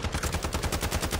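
Rapid automatic gunfire in a multiplayer shooter game, a steady burst of about a dozen evenly spaced loud shots in just over a second, with no talk.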